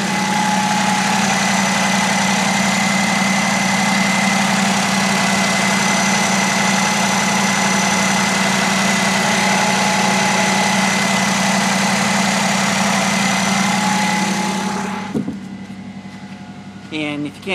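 A micro CHP engine driving an off-grid DC battery charger idles steadily at about 1100 RPM, a loud, constant hum with vibration that runs for around fifteen seconds, then cuts out, leaving a few faint clunks.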